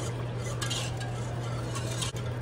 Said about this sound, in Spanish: ahora voy a revolver muy bien, que quede todo mezcladito